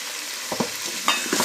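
Potatoes and drumsticks sauté on low heat in a pan for mutton thalsha, with a faint background hiss and a few short scraping stirs near the end.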